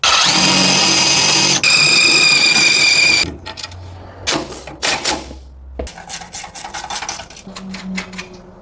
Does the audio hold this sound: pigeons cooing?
no